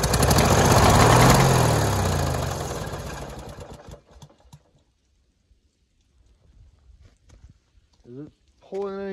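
A snow blower engine sputters and runs roughly for about four seconds, loud and close, then cuts out to near silence broken by small clicks before someone speaks briefly.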